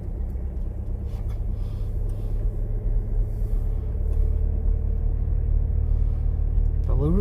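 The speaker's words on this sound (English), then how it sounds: "Delivery truck." A delivery truck passes on a busy street beside new shops, its steady low engine rumble swelling and holding close by for several seconds.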